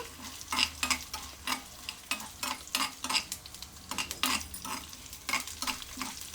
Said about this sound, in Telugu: ఇవన్నీ కొంచెం ఫ్రై అవ్వనివ్వాలండి